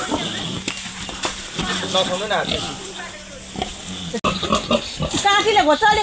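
A pig squeals and grunts in sharp bursts, loud and close, as four people struggle to carry the large pig into a vehicle, with their voices and shuffling movement mixed in.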